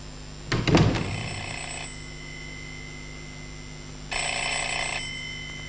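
An old telephone in a 1989 Albanian film rings with a bright bell in two separate bursts, the first starting with a thunk, with quiet room tone between them.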